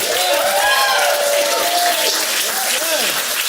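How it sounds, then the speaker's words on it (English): An audience at a stand-up comedy show applauds and cheers a comedian, sustained clapping with whoops over it as a host's voice rises above the crowd. "Round of applause for Tyler, Landon, Mays, everybody!"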